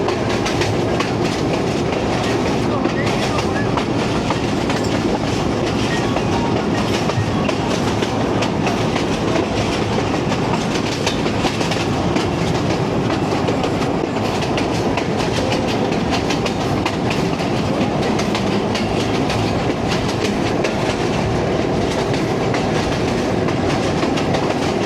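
The 125UP Lasani Express rolls along the rails between Lahore and Baddomalhi, a loud, continuous rumble with rhythmic clickety-clack of wheels over joints, steady throughout with no voices.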